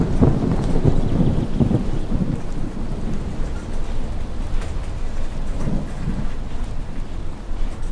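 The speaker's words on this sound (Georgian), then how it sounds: "ადრეც ამდენი წვიმა იყო?" Heavy rain pours down steadily through a thunderstorm, with a deep rumble of thunder rolling near the start and softer rumbles and gusts of wind later, no voices.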